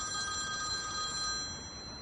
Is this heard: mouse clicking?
no